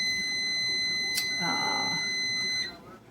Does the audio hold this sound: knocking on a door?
no